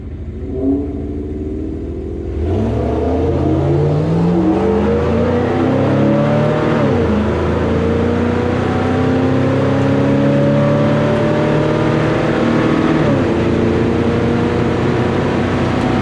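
A 1970 Chevelle SS launches down a drag strip at night, its engine snapping from a quiet idle into a loud, rising roar that climbs through the gears with a clear shift midway, close and sustained to the end.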